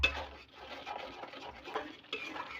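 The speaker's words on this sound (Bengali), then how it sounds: "এখন কিন্তু আমি ভালো করে কষায় নেব" Spiced taro stolons, seasoned with turmeric and salt, are stirred in a pan, giving soft scraping and light clattering of the spoon against the cookware in uneven strokes, with no one talking.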